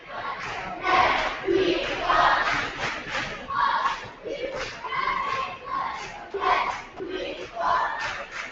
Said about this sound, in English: I'll let you listen to the Republic cheer squad.